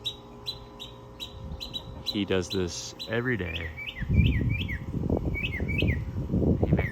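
Pet songbird chirping and whistling repeatedly in a garden in the morning, with bright, quick calls recurring throughout. Someone talks briefly over it, and low rustling and handling noise grows louder in the second half.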